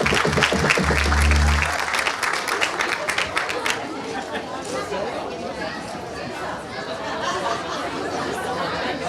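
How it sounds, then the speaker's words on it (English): An audience at a community Eid party applauds a magician being introduced, a loud opening burst of clapping that settles into crowd chatter and children's voices with scattered claps. "A hand of applause for Uncle Buck"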